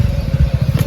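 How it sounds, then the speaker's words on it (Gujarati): A motorbike arriving on a village street, its engine giving a close, steady low putter with rhythmic pulses throughout, no voices. "બાઈક આવી ગયું લ્યો આવી ગયું"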